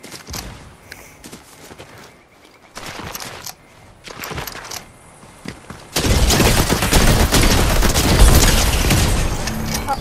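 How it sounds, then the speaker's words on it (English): Video game gunfire in dense bursts: scattered shots and short volleys through the first six seconds, then a loud, continuous barrage of rapid fire and booms until the end, with no talk. "they're shooting over there."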